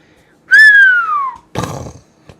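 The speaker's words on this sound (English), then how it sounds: "There's your little whistle, Bruce." A little whistle gives one loud, clear tone that slides steadily downward for about a second, followed by a short, rough burst of noise.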